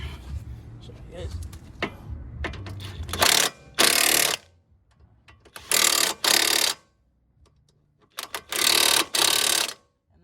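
An impact wrench zaps lug nuts on a car in three loud, close bursts of a second or so each, separated by quiet gaps, after a stretch of clinking and voices talking.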